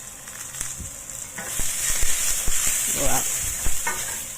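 Garlic and pork sizzle and crackle in a hot frying pan while being stirred, a steady close frying hiss with scraping stir strokes, and a person briefly exclaims.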